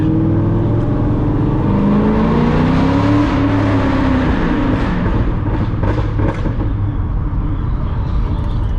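A C6 Corvette accelerates hard through second and third gear, its loud engine note rising steadily, dropping at a shift, then climbing again, recorded from inside the car with a continuous roar and no talking.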